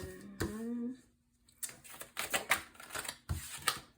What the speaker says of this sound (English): this is the second time I've actually seen this card shuffling for you guys